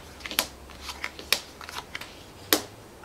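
A deck of cards for the Menu Masters board game is shuffled up close, producing several quick riffling bursts and crisp card snaps with no voice.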